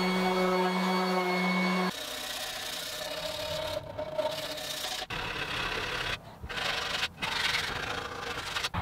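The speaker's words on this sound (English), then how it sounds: "so I'm sanding it up to 320." Hand sanding of a wooden hall table surface up to 320 grit, producing a steady, close, dry rubbing hiss with brief pauses and shifts in stroke, heard alone without speech.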